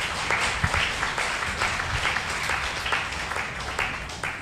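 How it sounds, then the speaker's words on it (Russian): A large church audience claps in a steady, dense ovation that stays even and moderately distant throughout, with no voices over it. "Я бы аплодировал на вашем месте."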